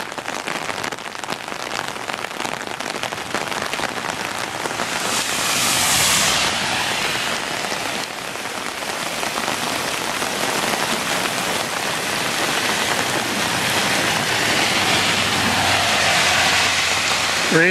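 Heavy downpour during a cloudburst dropping about an inch and a half in an hour, a dense steady hiss of rain on surfaces that stays loud and continuous throughout, with no voices.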